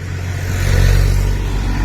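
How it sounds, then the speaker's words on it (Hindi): Tractor passing along a village road, a loud close engine rumble that swells to a peak midway and stays strong as it goes by, with no voices. "गाइस हमर रास्ता रे ट्रैक्टर माने भी जाउची"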